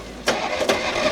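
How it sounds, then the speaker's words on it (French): An old Citroën 2CV, its spark plug just replaced, cranking and catching with two sharp bursts of engine noise over a steady mechanical hum, close by. "Démarre, voir si elle accélère."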